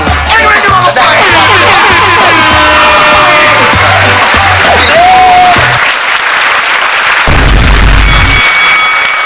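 Rally crowd at a West Portland campaign event breaks into loud, sustained applause with yells and whoops, backed by a pulsing low beat and sung or shouted voices over it, then a brief lull before a further burst near the end.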